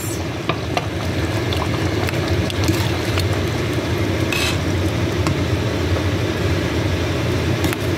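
Sautéed shrimp and onion stirred into a pot of mung beans, a steady loud sizzle with scraping stirring and occasional clicks of a utensil throughout, no voices.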